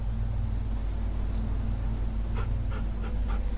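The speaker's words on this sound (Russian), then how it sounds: "Погладим пса еще раз." A dog pants in The Walking Dead 2 video game, with soft rapid breaths over a steady low engine-like rumble and hiss, a few faint huffs standing out near the end.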